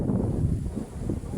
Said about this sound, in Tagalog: Sobrang lakas ng hangin mga lods.